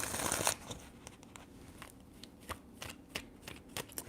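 Tarot cards shuffled by hand: a dense rustling burst at first, then a run of sharp, scattered card taps and flicks, close and fairly soft.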